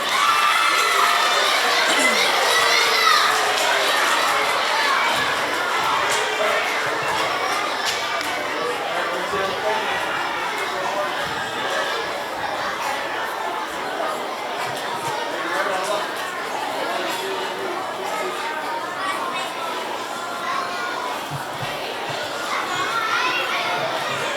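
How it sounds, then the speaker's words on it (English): A room full of children claps and cheers loudly for a long stretch at a school student-of-the-month award, with shouts and excited chatter mixed into the applause. "Let's hear one more really good round of applause for our October winners."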